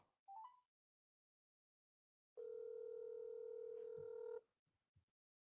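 Phone call ringing tone while calling someone: a short rising beep, a pause, then one steady two-second ring tone from a phone, with faint clicks after.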